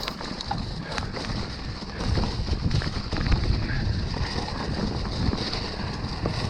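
Mountain biking on a Cannondale Habit along a trail, with steady wind rush over the microphone, tyre rumble and rattling clatter from the bike, getting louder partway through, with no talking.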